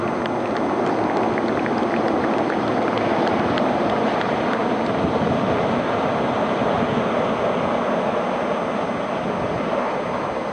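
Sea King 42B helicopters flying over in formation at a Navy Day display on the Sindhudurg coast, a steady loud broadband rotor and engine roar that continues without break.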